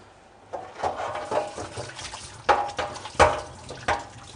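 Running water splashing while hands are washed in a kitchen, uneven bursts of splashing and trickling with a few louder splashes, close and moderately loud, with no talking.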